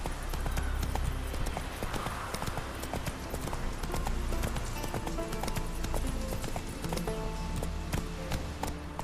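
Horse hooves clip-clop at a steady trot in The Witcher 3, a continuous rhythmic clatter of close, moderately loud hoofbeats over game ambience and music.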